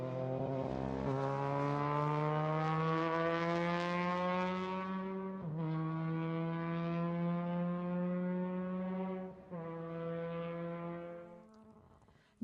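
A formula race car with a rotary engine driving on a racetrack, its high buzzing engine note rising steadily in pitch through two long pulls, with brief dips between shifts and a fade at the end.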